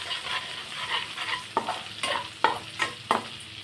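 Green chilies and curry leaves frying in a pan for chicken roast, a soft sizzle under repeated scraping stirs, several sharper strokes in a loose rhythm near the end.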